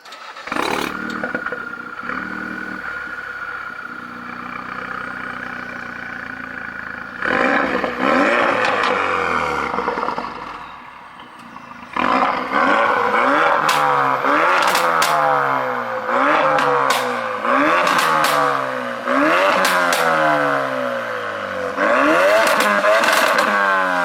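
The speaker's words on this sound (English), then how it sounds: "We're going to give it a start up and some revs now." A Mk3 Ford Focus RS with a Mountune tune starts up, idles loudly, then is revved repeatedly, each sharp rise in engine pitch followed by a quick fall, heard close and loud with no talk.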